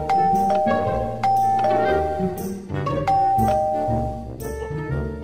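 A doorbell chimes a few times in a Minecraft game scene, with bright ringing tones over continuous loud background music.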